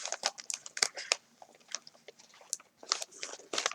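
A parcel is cut open by hand, giving faint, close crinkling and crunchy snipping bursts in uneven clusters, with short pauses between cuts.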